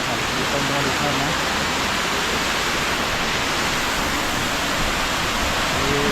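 A steady, dense roar of water pours down the stone steps of a step waterfall near Goregaon in Raigad, filling the whole scene at close range without letting up.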